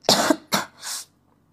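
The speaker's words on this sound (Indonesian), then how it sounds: "Kok batuk sih?" Three quick coughs from one person, the first two sharp and the last a softer, throatier hack, close and clear against a quiet room.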